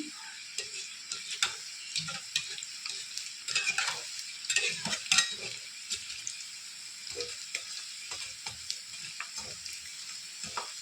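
Sago vadas fry in a generous amount of hot oil, giving a soft, close sizzle with scattered pops and light scraping, fairly quiet and free of speech.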